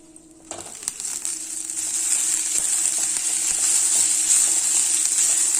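Cooked rice being stirred into a turmeric masala in a hot pan for masala lemon rice, with a steady bright sizzle that builds and scraping stirring sounds running throughout, no talking.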